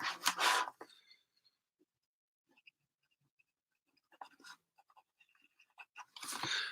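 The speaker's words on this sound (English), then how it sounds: "Let me write that down." A pen or pencil writing on paper: faint, intermittent scratching strokes, close by and quiet, with louder bursts of other activity at the very start and end.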